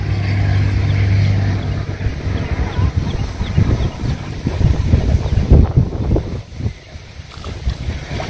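Wind gusts across a boat while fishing in Vietnam's Mekong Delta, producing strong rumbling microphone buffeting and rushing noise with some water sounds, continuous throughout and loud.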